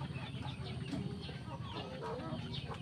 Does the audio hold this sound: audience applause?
no